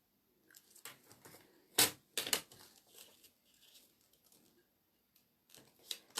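Scissors cut through cardstock paper in a few short crisp snips, with two louder cuts close together mid-clip and quieter rustles of handling around them, heard up close with no talk.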